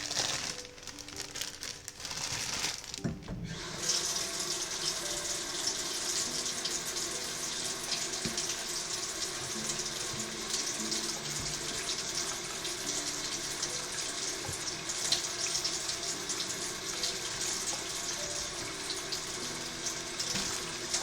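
Broccoli rinsed under a running kitchen tap, water splashing steadily into a sink for about twenty seconds, close and continuous with faint crinkling alongside.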